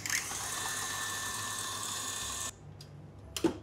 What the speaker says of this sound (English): And continue whisking.